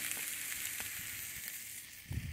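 Meat sizzles steadily in a frying pan set over an open wood fire outdoors on a cold autumn day, a constant close crackling hiss with a soft clank near the end.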